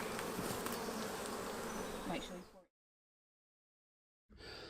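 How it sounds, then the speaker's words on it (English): Honeybees buzzing thickly around their new hive, a dense, steady close-up drone that stops abruptly into silence, then resumes briefly at the end. "we've taken the bees and we've put them into their new hive"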